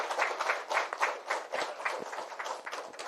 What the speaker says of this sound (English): Please give a warm and slightly dramatic round of applause for the one and only Mr.